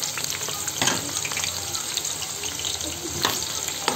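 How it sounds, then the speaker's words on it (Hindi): Chopped onions frying in two spoons of oil in a pan on a gas stove, a steady loud sizzle with occasional stirring scrapes throughout. "अब इसमें हम अपनी ये कटी हुई प्याज ऐड कर देंगे।"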